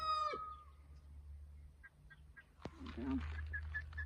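A fluffy chicken kept in a backyard clucks softly in short, scattered calls, with a brief sharp knock in the middle and faint low background rumble.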